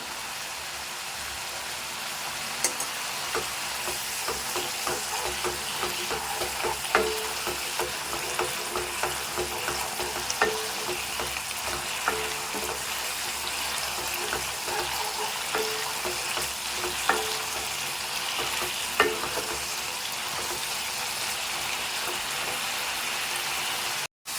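Kasi halwa frying and being stirred in ghee in a pan, a steady close sizzle throughout with soft scraping stir strokes and small pops, no talking.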